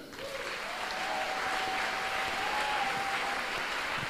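A congregation applauds the Lord, a sustained, full roar of clapping across the hall, with a faint voice briefly heard beneath it.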